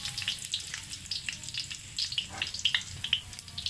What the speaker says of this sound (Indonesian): Oke, first kita taruh bawang putih.